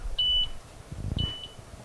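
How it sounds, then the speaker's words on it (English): A kitchen timer sounds two short, clear electronic beeps about a second apart while a Frogmore stew (shrimp boil) cooks, with low clattering pot noise between them and no talking. "the timer just went off for 8 minutes"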